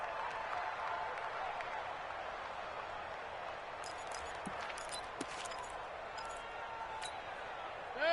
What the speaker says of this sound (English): That's why you hear that clapping on the sidelines, right?